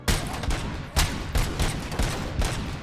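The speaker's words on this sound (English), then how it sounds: "This is supposed to be the single shot magnum mode" Gunfire in the video game Robocop: Rogue City, with the weapon in its single-shot magnum mode: a series of loud, sharp shots at roughly half-second intervals over a busy, dense game soundscape.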